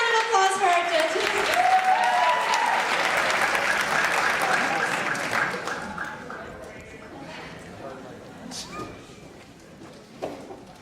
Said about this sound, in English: Give her one more round of applause for our judges.